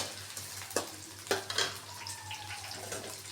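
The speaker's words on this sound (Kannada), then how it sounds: "ಈರುಳ್ಳಿ ಕೂಡ ಚೆನ್ನಾಗಿ ಫ್ರೈ ಮಾಡ್ಕೋಬೇಕು." Chopped onions fry in a pan for a sambar made with drumsticks, a soft, low sizzle with a few sharp stirring scrapes and clinks close by and no talk.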